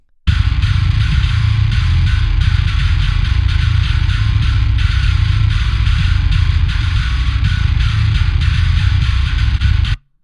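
A heavily distorted bass guitar pitch-shifted down to drop E plays a thick, continuous growl for about ten seconds, loud and dense with a gritty upper buzz.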